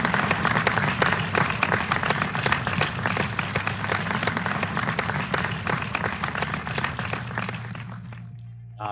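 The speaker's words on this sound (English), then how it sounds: "let's give them a warm round of applause" Warm applause greets the Alberta Volunteer Award recipients at an online awards ceremony: dense, steady clapping from many hands that holds for several seconds before thinning out and stopping.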